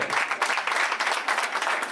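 Louder, renewed applause from the audience at a Lions Club gala, a brief, dense wash of many hands clapping without pause.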